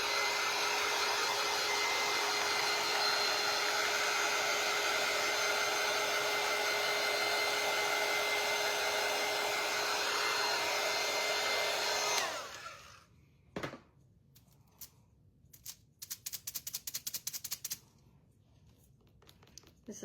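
A hair dryer drying paint on a wooden sign post piece runs loud and steady at close range for about twelve seconds, then shuts off, followed by scattered rustling and handling noises.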